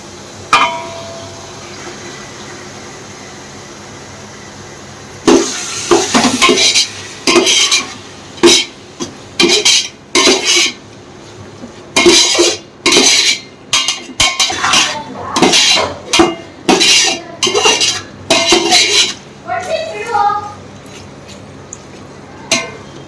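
Marinated paneer going into a hot pan for paneer biryani, then stirred; after a quiet start come repeated sharp metallic scrapes and clinks of a utensil against the pan in quick irregular bursts, with a light sizzle underneath.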